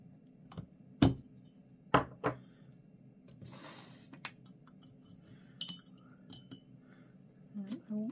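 Watercolour paint being mixed in a dish gives sparse light clinks and taps of a brush against ceramic, a few sharper knocks, and a brief rustle, with a quiet voice at times.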